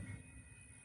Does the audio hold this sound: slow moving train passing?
yes